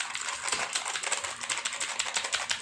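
Rapid, crisp clacking of keys on an old mechanical keyboard, a dense even patter of close keystrokes with no voice over it.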